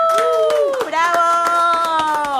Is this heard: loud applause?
yes